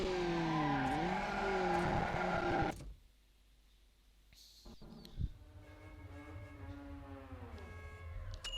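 Race cars in the video game Need for Speed Underground during a lap knockout race: a loud, high-revving engine whine that suddenly drops to a quieter lull, then builds back into a steady, rising engine drone.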